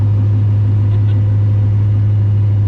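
A car being driven hard gives a loud, steady low engine rumble that holds throughout without clear rev changes.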